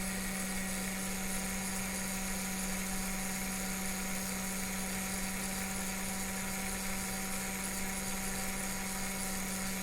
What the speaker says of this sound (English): controlling the velocity of the motor by using a PWM signal